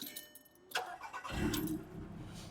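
A VW Polo engine cranks and catches at about 1.3 seconds, then settles into a loud, close, rough idle with a steady low rumble.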